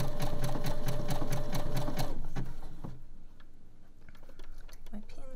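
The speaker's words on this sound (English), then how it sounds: "I've taken the front off my machine so that I've got a narrower section here to sew with" A sewing machine with its front section removed stitches a zigzag around the small leg opening of cotton knickers, running in fast steady bursts for two seconds and then stopping, leaving quieter handling noises.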